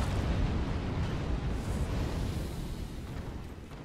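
A fire-slinging enemy's fire attack in Dark Souls 3 erupts as a loud, sustained explosive roar that rumbles continuously for several seconds and slowly fades, with no talk over it.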